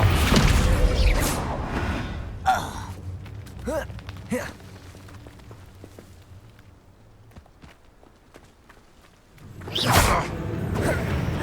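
Spell casting in the video game Hogwarts Legacy: a few separated magical whooshes and thuds with soft footstep-like game noise between them, ending in a louder, fuller blast near the end.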